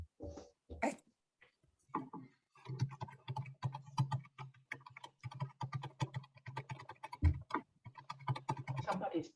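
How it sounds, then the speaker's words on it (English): Someone types on a computer keyboard in rapid, uneven bursts of key clicks. A brief cough or throat clear and a thump sound near the start. The typing is faint and close, with a low hum underneath. "Somebody's typing."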